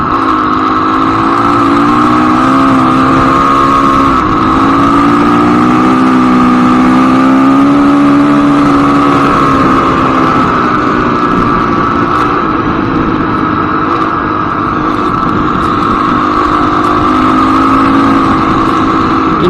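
A Honda CRF250X dirt bike engine drones steadily while riding, loud and close with a buzzing tone that rises and falls gently in pitch and never drops out.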